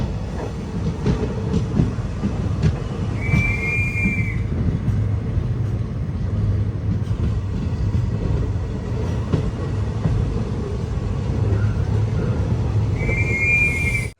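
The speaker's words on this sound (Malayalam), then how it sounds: "ട്രെയിൻ ഇതാ ബോഡി നായക്കന്നൂർ റെയിൽവേ സ്റ്റേഷനിലേക്ക് എത്തിക്കൊണ്ടിരിക്കുകയാണ്" A passenger train pulls into Bodinayakkanur railway station at the end of the line from Madurai with a steady low rumble and rattling carriages, and two short high horn or whistle tones sound about ten seconds apart.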